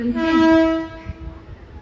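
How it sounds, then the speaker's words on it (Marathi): A 12-car slow Mumbai local train on the Harbour line stands at Kings Circle station platform. A loud horn blast fades out over a low, steady rumble. "प्लेटफॉर्म क्रमांक 2 पर आई हुई लोकल 3:04 की हर्बल लाइन से मुंबई छत्रपति शिवाजी महाराज टर्मिनस जाने वाली 12 डिब्बों की धीमी लोकल है"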